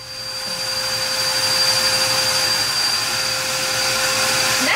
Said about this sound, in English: That's the second daggone time this vacuum cleaner went off.